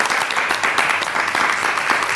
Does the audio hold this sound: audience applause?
yes